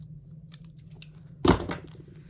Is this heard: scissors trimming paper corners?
yes